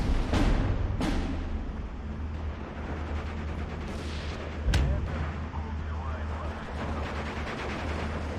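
Gunfire from the WWII strategy game Steel Division 2, snipers firing on approaching Bren carriers: a few sharp cracks, two near the start and one louder shot midway, over a steady low battle rumble.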